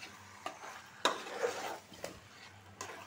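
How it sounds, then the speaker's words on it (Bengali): Potatoes and chicken pieces stirred together in a pan, with a quiet sizzle broken by several sharp scrapes and clinks of a spoon against metal, close but soft, no voices. "এখন আলু আর মাংসটা মিশিয়ে নেব।"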